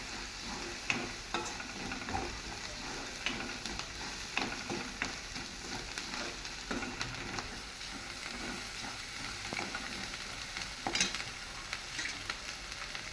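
A paneer curry mixture fries in a pan with a continuous sizzle, and the cook stirs it with repeated spoon scrapes and taps against the vessel.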